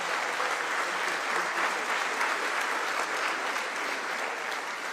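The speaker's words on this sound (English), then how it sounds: "A warm round of applause for His Excellency" Steady, dense applause from a conference audience after a head of state's speech, loud and sustained throughout with no talk over it.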